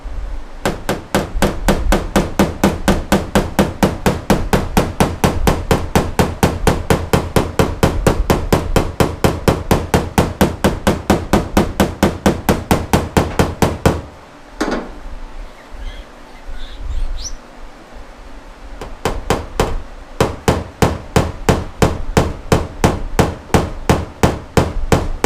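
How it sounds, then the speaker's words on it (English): Hammer tapping out dents in the metal body panel of a 1966 Ford Mustang under restoration, using the hammer's flat face while pushing against the metal, rapid steady blows close and loud, pausing several seconds before resuming, faint bird chirps between. "I'm gonna push against it and use the flat part of the hammer"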